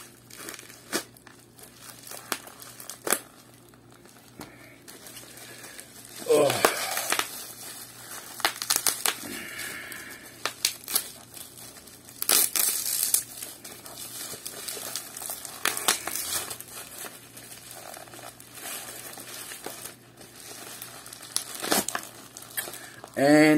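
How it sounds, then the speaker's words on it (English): Taped bubble wrap packaging around a thermostat is cut with scissors and pulled open, giving close, loud crinkling, crushing and crackling bursts that come and go throughout, with occasional talking. "This is the second layer of packaging of bubble wrap, but it's taped, so it's going to require a bit of scissors to open it."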